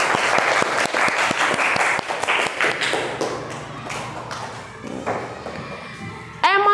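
Schoolchildren in a classroom clap in unison, a rapid rhythmic burst of close, loud hand claps that thins into scattered taps, thumps and murmuring, ending with a sudden sharp noise.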